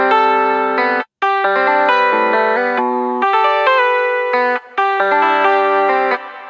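A bright synthesized melodic line processed with distortion, bit crushing and reverb plays in choppy sustained notes with brief gaps, loud and alone, no talking.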